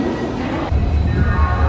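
An express train running into a busy railway station platform in India, a steady low rumble with a heavier rolling surge from about the middle onward, loud and continuous with no talk.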